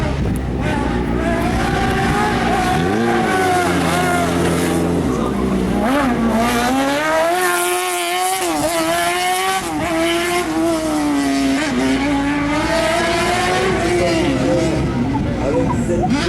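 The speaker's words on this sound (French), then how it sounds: "cette nouvelle acquisition BRC, magnifique machine propulsée par un moteur moto." A BRC race car with a motorcycle engine runs a slalom course at an event in Agon-Coutainville. Its engine revs high and rises and falls sharply as it accelerates and shifts, loud and continuous, while a commentator talks over it.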